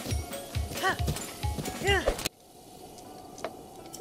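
Rhythmic clip-clop of a galloping horse in the video game Zelda Breath of the Wild, steady and close for about two seconds before cutting off abruptly into a quiet background.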